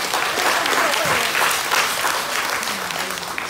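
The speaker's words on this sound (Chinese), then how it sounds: "给他掌声呀！" An audience at a memory-training seminar gives a burst of steady applause, with a voice talking over the clapping.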